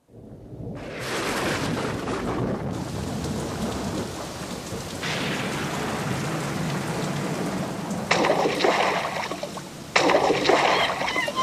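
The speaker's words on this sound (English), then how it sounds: "It's raining!" Heavy rain pours steadily and loudly, swelling into stronger gusts of downpour near the end.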